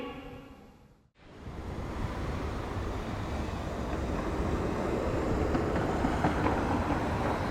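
A loud, steady rumble of a Hokuriku Shinkansen train passing through a station at close range, building after a brief quiet moment and continuing without a break.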